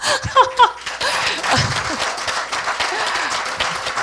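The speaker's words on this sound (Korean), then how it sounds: "이렇게 박수도 많이 쳐주시고 정말 감사합니다" Audience applause at a Korean communication-culture association's founding festival: a crowd clapping steadily at a moderate level, with a few brief voices and light laughter near the start.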